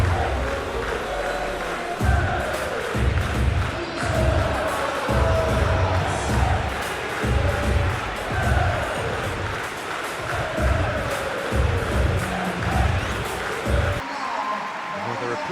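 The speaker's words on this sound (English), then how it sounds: "a capacity crowd here" A capacity crowd in the stadium of the PES 2021 football video game roars steadily on a clear night for an England vs Argentina match, with rhythmic chanting pulses and a commentator talking over it.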